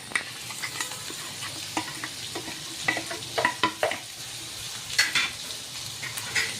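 Stuffed tinda (dhemsa) frying in hot oil, Nagpur-style bharwa masala: a steady close sizzle broken by repeated scraping stirs and spatula clicks against the pan, with no talking.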